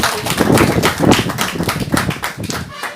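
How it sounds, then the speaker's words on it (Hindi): An audience claps in a loud, close burst of rhythmic applause that surges and dips over a few seconds, then thins out toward the end. "तालियां हो जाए जबरदस्त"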